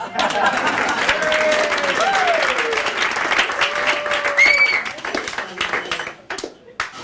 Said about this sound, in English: I think I deserve a bit more applause.